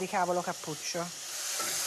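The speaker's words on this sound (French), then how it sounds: "à feu vif, on fait revenir la base dans l'huile d'olive, puis on insère les légumes" Chopped vegetables, including black cabbage and celery, frying in olive oil over high heat for an Italian minestrone base. A steady, fairly loud sizzling hiss runs throughout, with a voice talking over it for the first second.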